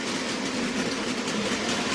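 Bachmann OO gauge SDJR 7F model locomotive pulling a train of Dapol and Hornby wagons on a layout, a steady close whirring rumble of wheels and motor with no breaks.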